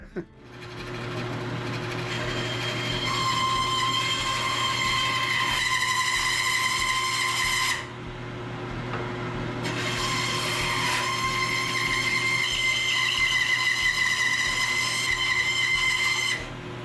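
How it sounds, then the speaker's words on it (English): A bandsaw cuts through two wood pieces screwed together, its steady motor hum joined by a loud, high whining rasp during two long cuts separated by a short pause. "So I'm going to go to the bandsaw now and try and cut that out"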